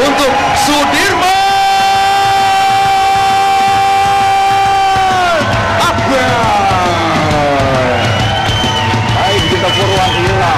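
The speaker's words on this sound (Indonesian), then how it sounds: "kita beri tepuk tangan dan sambutan yang paling meriah untuk Sudirman." Crowd at an MMA semifinal event in Indonesia roars and whoops loudly under an announcer's amplified introduction, with sustained cheering throughout.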